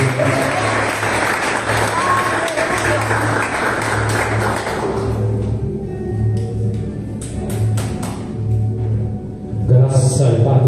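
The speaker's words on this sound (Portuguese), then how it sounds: "Aplauda o Senhor pela vida." A church congregation claps loudly and densely for several seconds, then the applause thins into scattered claps while a low voice and background tones carry on beneath.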